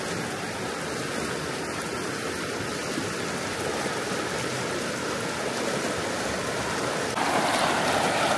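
A river roars in a steady, dense broadband rush, loud and close at a riverside campsite, continuous throughout and swelling slightly near the end.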